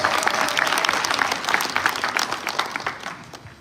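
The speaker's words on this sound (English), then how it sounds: "give yourselves a round of applause and give these brothers a round of applause." Loud applause from a symposium audience, a dense burst of clapping that starts strong and gradually thins into scattered claps as it fades.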